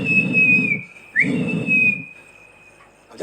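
A loud, sustained whistle that a storyteller imitates with his own mouth, held steadily across the clip with a short rising flick midway and brief breaks, standing alone with no talk.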